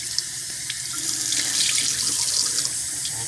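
Tap water pours steadily into a hotel room sink with a constant hissing splash and a few faint drips, with no voices.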